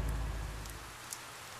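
Rain in the 428 Shibuya Scramble video game, steady dense hiss of heavy rainfall with a low rumble fading early, continuous and fairly faint, no voices.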